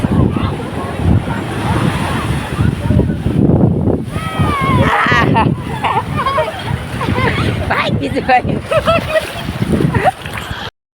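Sea waves splash and wash ashore at Nagoa Beach, Diu, under strong wind buffeting the microphone, with people talking and calling out nearby throughout.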